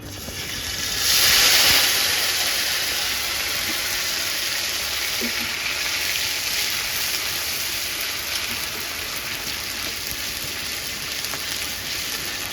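Spice paste drops into hot oil for potato curry (aloo dum), a loud hissing sizzle that flares up at the start and then settles into a steady, dense crackle.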